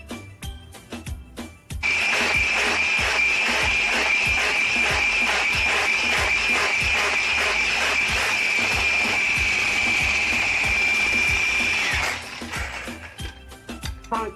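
Electric mixer beats cake batter for a bundt-style magic pan cake, switching on with a loud, steady whirring whine that holds for about ten seconds before cutting off, with light clicks and knocks before and after.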